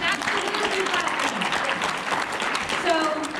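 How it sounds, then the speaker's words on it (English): A conference audience claps in a steady, moderately loud wash of applause that lasts the whole stretch, with a voice faintly audible over it. "So yes, we could clap for that."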